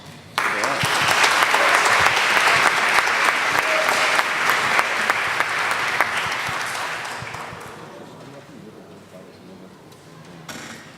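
Loud, sustained applause from a crowd at a formal council session in Niterói, clapping steadily for several seconds before gradually thinning and fading out.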